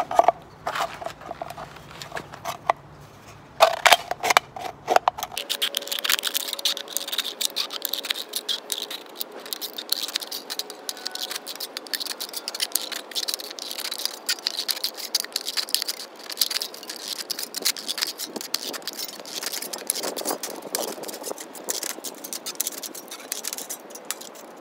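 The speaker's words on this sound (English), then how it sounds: "So now I'm just gonna trim it up." Scissors snipping and trimming a piece of cut aluminum can, a steady run of small crisp clicks and rustling metal close by for most of the stretch, with no talking.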